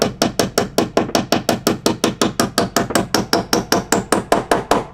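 A ball peen hammer drives nails during construction of an outdoor shower in Alaska, about twenty-five sharp, evenly spaced blows struck in quick steady rhythm, loud and close.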